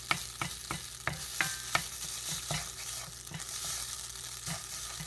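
Vegan egg scramble sizzling in a pan, with a steady fry hiss under rhythmic spatula scrapes and taps, close and moderately loud.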